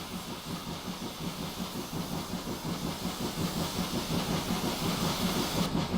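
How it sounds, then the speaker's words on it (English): Steam locomotive 6960 Raveningham Hall works hard nearby on the West Somerset Railway, its rhythmic chuffing beating steadily over a dense hiss of steam and rolling rail noise. "just listen to that, and the steam effects from it"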